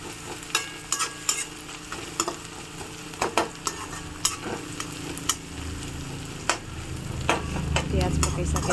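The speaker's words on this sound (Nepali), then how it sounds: "यसरी मैले यहाँ यसमा प्याज यसरी रातो बनाउँदैछु।" Onions fry in a pan, browning in a continuous crackling sizzle broken by repeated scraping stirs and clinks of a utensil, with the sizzle growing fuller toward the end.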